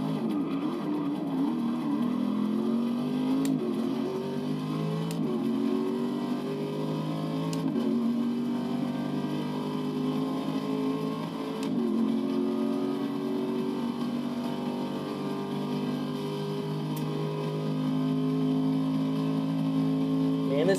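Race car engines howl in Forza Motorsport 6 at Road Atlanta, a steady loud drone with pitch rising and falling through gear changes and shifts, carrying on continuously for the whole stretch with a few brief clicks.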